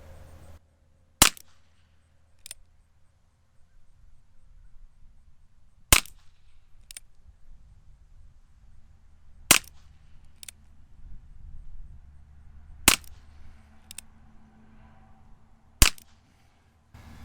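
Ruger Wrangler revolver fired at a paper target outdoors, five sharp single shots spaced several seconds apart, each with a short echo over faint background rumble.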